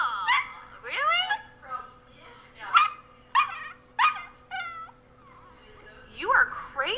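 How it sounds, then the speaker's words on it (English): A dog named Galaxy lets out a series of sharp, high, yelping barks and yips, close and fairly loud, in irregular bursts with short pauses over a faint steady hum. "Galaxy's my name and barking is my game."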